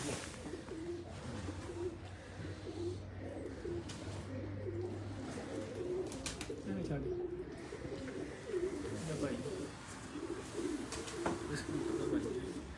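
Pigeons cooing softly on a rooftop, low throaty rolling coos repeating steadily throughout, fairly close but quiet, with people talking intermittently over them.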